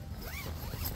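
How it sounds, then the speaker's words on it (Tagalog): A tent zipper is pulled shut in one quick, close rasping sweep lasting about a second. "Isi-zipper lang natin to."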